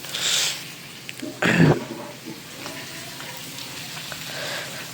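Spiced fish pieces fry in a pan, giving a soft ongoing sizzle. A short louder burst of spattering and clattering rises midway, then it settles back to a low hiss.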